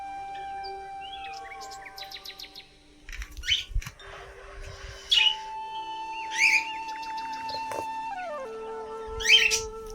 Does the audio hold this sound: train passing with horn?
no